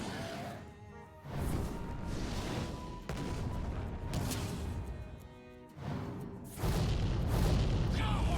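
Magma Blast spell from Hearthstone Mercenaries, fire-themed booming impacts and crashing bursts rolling through a loud, dense mix of game effects, with a couple of heavy hits late on.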